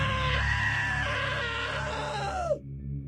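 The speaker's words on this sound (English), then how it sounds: "Now that was a great scream." A long, strained scream from a character in the video game What Remains of Edith Finch, sustained and wavering over a low hum before abruptly cutting off into quiet.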